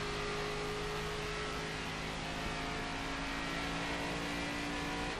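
A NASCAR 25 stock car at Bristol drones with a loud, steady engine note and a high whir, holding close and constant throughout with no talk.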